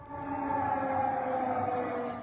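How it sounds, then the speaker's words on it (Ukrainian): An air raid siren in Poland wails as a steady sustained tone with a slight waver, loud and continuous for the whole moment with no talking. "Повітряна тривога у Польщі."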